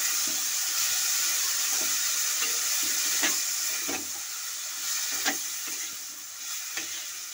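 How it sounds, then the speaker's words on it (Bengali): Water goes into a pan of small fish and okra spiced with chili powder, bringing a steady broadband sizzle and hiss with soft scraping stirs recurring every second or so, close and fairly loud, no voices. "এবার আমি জল ঢেলে দিচ্ছি নেড়ে।"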